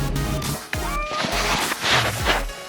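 A cat meows from inside a truck, a few loud, close, drawn-out cries over a low rumbling hum.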